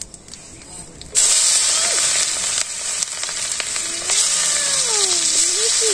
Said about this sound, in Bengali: যে তেল দিয়ে দিই আর একটু একটু দিয়ে দিলাম, এই যে তেজপাতা শুধু জিরা দিয়ে দিলাম,